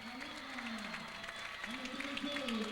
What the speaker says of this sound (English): as the crowd erupts once again